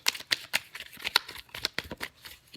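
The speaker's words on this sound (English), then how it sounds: "I know the shuffling is kind of boring and it takes up a lot of time in the video" Tarot cards are shuffled by hand close up, a quick run of crisp riffling slaps and flicks in an uneven rhythm with no talking.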